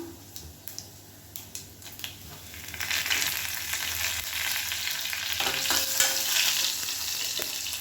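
Curry leaves hit hot oil in a pan while cooking a lunch dish, with a few faint clinks first and then a loud, steady sizzle and crackle that continues for several seconds.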